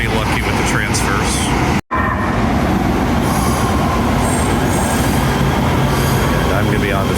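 An LA Metro rail train runs steadily close by, a continuous rumble of wheels on track with faint squealing, one brief dropout partway through, and some background voices.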